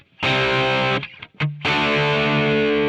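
A distorted electric guitar runs through an Amplitube 5 amp and cabinet simulation, playing loud, saturated sustained chords that cut off briefly, with one short stab, then ring on again, dense and buzzy.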